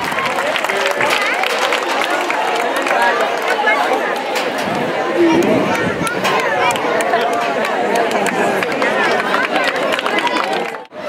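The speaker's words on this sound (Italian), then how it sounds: "Un grosso applauso" Prize-giving for a beach volleyball tournament held outdoors at a summer festival, with a crowd applauding steadily and chattering for about eleven seconds, dense and fairly loud, tapering at the very end.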